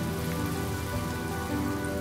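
Steady rain falls in the video game Honkai: Star Rail, a dense, even hiss of drops pattering on surfaces with no voices over it.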